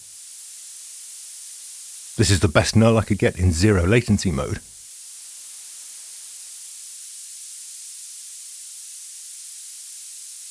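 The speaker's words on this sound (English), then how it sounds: "So let's try the pink noise test again." A pink noise test signal plays as a steady, even hiss for the whole stretch, broken briefly by someone talking over it.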